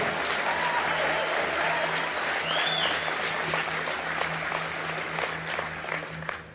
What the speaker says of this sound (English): Give yourselves a round of applause for having an uncommon desire to reach your goals